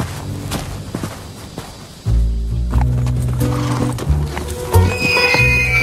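A thoroughbred horse's hooves clip-clop and thud close by, mixed with a whinny and shifting movement, loud and busy throughout with no talk.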